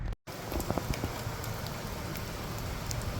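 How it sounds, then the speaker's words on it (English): Raindrops from a passing sun shower patter steadily outdoors, a dense, even hiss of drops on surfaces with scattered sharper taps, continuous and fairly close throughout. "And looky here, raindrops. Just a nice sun shower."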